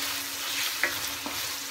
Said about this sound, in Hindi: अब हम इसमें अदरक और लहसुन डालेंगे और सब्ज़ मिर्ची, थोड़ा सा इसको मिक्स करेंगे